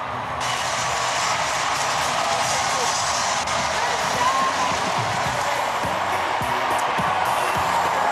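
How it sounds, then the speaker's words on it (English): A large crowd at the Democratic National Convention roars and cheers for a speaker's speech, a continuous dense wash of noise with whoops, heard through a broadcast stream with a voice occasionally over it. "You gotta hear the fucking crowd."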